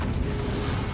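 The Expelliarmus spell is cast in the Hogwarts Legacy video game mid-fight, heard as a loud, continuous booming blast with heavy low rumble across the whole moment.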